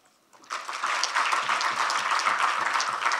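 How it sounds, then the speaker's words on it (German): Audience applause at the end of an expert panel discussion on antibiotics in medicine, rising quickly after a brief quiet start into steady, sustained clapping from a sizeable crowd. "ist durchaus einen Applaus wert"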